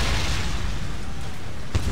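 Mortar rounds explode in Empire Total War, a heavy, continuous low rumble of booms with one sharper thud near the end, loud and close.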